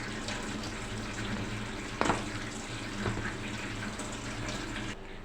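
Tap water runs steadily into a kitchen sink while food is washed by hand, with a couple of brief splashes and clatters over the continuous flow.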